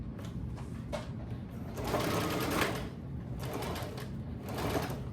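A sewing machine stitches a 5/8-inch seam joining fabric blocks for a rag tote bag, running in steady bursts that speed up partway through, close and moderately loud, with no talk over it.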